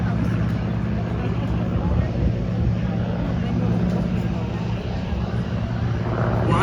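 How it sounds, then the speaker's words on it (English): The twin General Electric engines of an EA-18G Growler at an air show run up toward full afterburner, producing a loud, continuous, broadband jet roar that holds steady throughout. "Will run his engines up to military power, take us into the switch, and then proceed to go to maximum afterburner"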